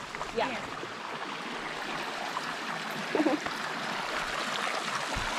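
Stream water flows with a steady, soft broadband hiss at a forest campground, continuous and close, with people talking briefly over it.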